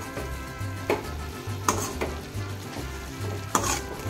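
Drumstick leaves (murungai keerai) sauté in a pan with a continuous close sizzle. A utensil scrapes and clinks in a few sharp strokes as the leaves are stirred.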